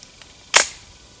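A single sharp crack from a Trapmaster air gun fired while plinking, close and loud, decaying quickly into quiet; faint clicks come just before it.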